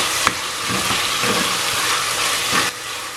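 Tomatoes sauté in a pan for a Sri Lankan dry fish curry. A loud, dense, even sizzle and hiss fills the whole stretch, with a couple of brief utensil knocks and no speech.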